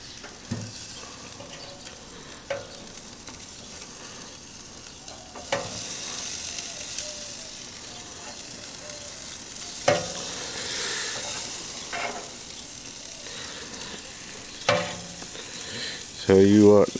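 Skirt steak and flanken-style ribs sizzle on a grill in a soft, continuous crackle, with scattered sharper clanks and scrapes and a louder burst near the end.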